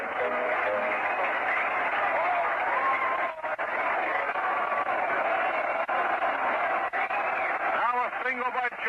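Baseball stadium crowd at a Mets versus Expos game, a dense continuous roar of cheering and murmur heard through an old broadcast, loud and steady with a brief dip midway and a voice surfacing near the end.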